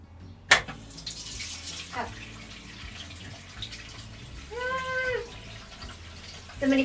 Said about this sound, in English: you rinse it a couple of times with the water